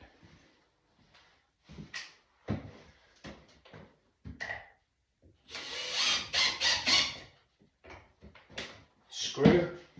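Screws being driven into a wooden floor joist, heard as a series of short, sharp knocks and bursts of tool noise with a longer whirring stretch in the middle, fairly close and with no talk.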